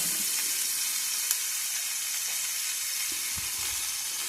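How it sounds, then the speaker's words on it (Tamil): Potato and capsicum fry together in a pan for a Tamil-style potato capsicum gravy, producing an even, constant hiss and sizzle with a couple of soft knocks, and nobody speaking. "இப்போ இதை நீங்கள் ஃப்ரை பண்ணிகிட்டே இருங்க"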